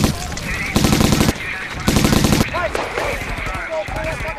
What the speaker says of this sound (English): That machine gun shooting at him and him shooting back.